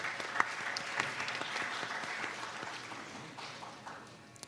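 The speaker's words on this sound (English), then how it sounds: "Please give a round of applause for our makeup artist." Sustained audience applause at a Bharatanatyam arangetram, a dense, even patter of many hands filling the hall that holds steady and slowly tapers toward the end.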